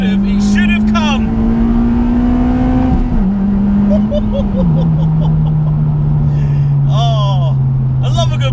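Honda Civic FD2 Type R with a K20A engine droning steadily at high revs on a B-road, pitch climbing then dropping slightly as it shifts, loud and close, with brief bursts of other car noise over it.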